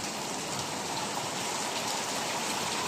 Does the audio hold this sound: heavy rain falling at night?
yes